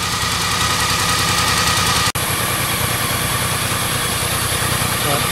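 A BMW K75 cafe racer motorcycle engine idles steadily and loudly nearby, with a brief cut partway through before the running drone resumes, and no speech over it.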